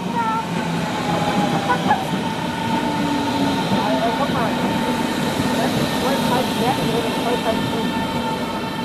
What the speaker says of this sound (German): Kurz darauf fuhr eine S45 nach BER Terminal 1 und 2 aus Südkreuz kommend in den Bahnhof ein.